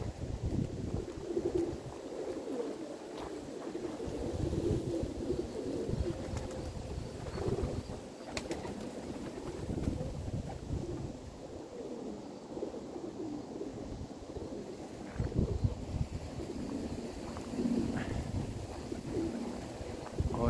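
Pigeons coo at low volume in gusty wind, soft repeated calls scattered across a long stretch of windy outdoor noise with no talking.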